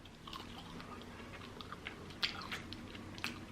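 Close, quiet chewing of Steak n Shake fries, with soft crunches and small bites repeating irregularly over a low background hum.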